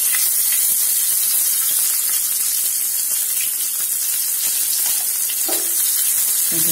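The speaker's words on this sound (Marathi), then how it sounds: "जिरं मोहरी व्यवस्थित झाले की आता याच्यामध्ये आपण हा कांदा टाकून घेऊया." Onion tossed into a hot cumin and mustard seed tempering for a spiny gourd (kantola) curry produces a loud, steady, close hiss that runs unbroken from start to finish, with no voices.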